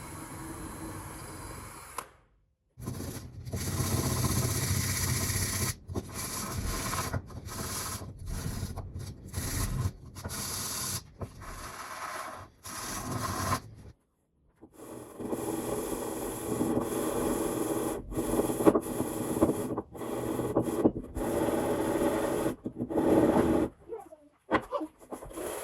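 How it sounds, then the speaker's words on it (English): Sandpaper rubbing inside metal pipes gives a series of raspy scraping strokes, broken by short pauses and a longer gap midway, close and moderately loud. "Then we'll do a little bit of sanding."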